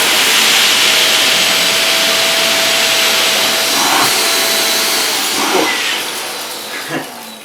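Dyson DC28c multi floor cylinder vacuum cleaner runs loud and steady with a hissing airflow roar, pushed forward and back through a tight space, with a few brief bumps and a slight drop in level near the end.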